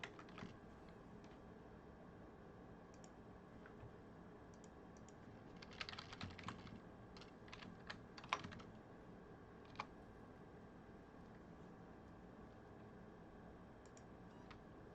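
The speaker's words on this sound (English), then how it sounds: "So let me type it for you." Quiet, steady typing on a computer keyboard, soft key clicks running through with a few louder taps midway, no voices over it.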